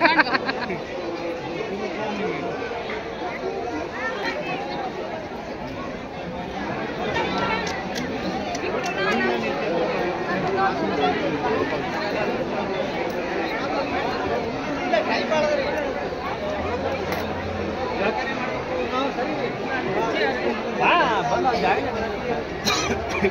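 A huge throng of pilgrims at a Swami Samarth temple in Ganagapur or Akkalkot keeps up a continuous murmur of many voices. The babble stays steady and close, with a cough or two rising briefly above it.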